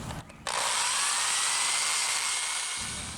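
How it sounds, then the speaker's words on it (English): A power drill with a small bit bores into a steel bumper coated in cutting oil, giving a loud, steady high-pitched whine that starts abruptly after a short pause and holds for several seconds. "Put a little cutting oil on it and start drilling."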